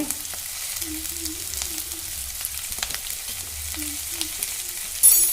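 Veg noodles with cabbage frying in a pan as spring onion goes in, a steady close sizzle with light stirring and scraping running throughout, no talking.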